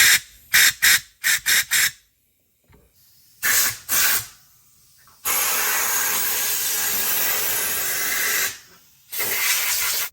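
Compressed air blasting dirt out of a part, first as a string of short hissing bursts, then a long, loud continuous blast lasting a few seconds, followed by a final short burst.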